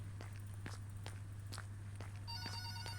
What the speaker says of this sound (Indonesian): Oh dapat telepon lagi dia,